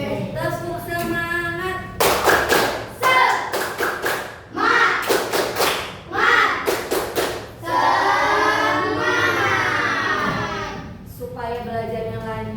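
A class chants the 'tepuk semangat' routine, clapping in tight rhythmic bursts of several claps that alternate with shouted, sing-song group chanting. The claps are loud and close, and a voice calls out at the end.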